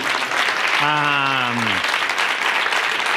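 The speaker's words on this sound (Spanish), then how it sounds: "yo pido un aplauso para Lucía" A classroom group applauds for Lucía, steady dense clapping running under a voice that rises and falls through the middle of it.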